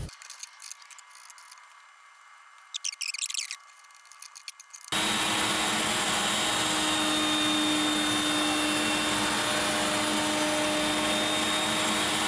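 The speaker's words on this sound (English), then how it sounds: "I'm gonna put a little 1/8-inch round over on all these slots." A router cuts a 1/8-inch round-over along slots in walnut for a speaker cabinet, running as a loud, steady, sustained whine after a quieter start with faint clatter.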